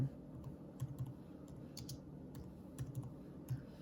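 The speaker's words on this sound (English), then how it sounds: "So I'm going to type out zero" Soft, quick keystrokes tap on a computer keyboard in short, irregular bursts, quiet and close, over a low background hum with no voices.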